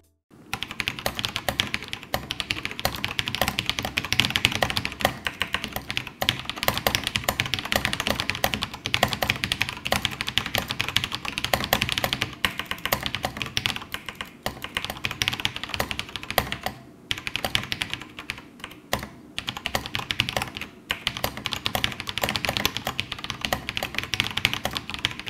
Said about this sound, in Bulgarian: ще ви пусна едно клипче, за да видите как се чува клавиатурата докато пишете